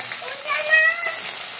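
Spices, ginger paste and fresh tomatoes fry in a pan with a steady, close sizzle that swells briefly in the middle, a soft continuous crackle with no talking.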